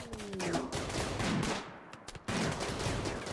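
Gunfire in the RimWorld colony game, a dense, sustained burst of loud shots and rattling fire filling the whole stretch, with a brief dip near the end before it picks up again.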